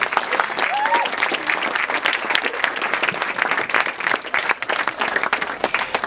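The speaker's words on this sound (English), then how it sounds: "A round of applause for them," Wedding guests applaud at a reception, a dense, sustained round of clapping from a crowded room, close and lively, with a few voices and whoops mixed in.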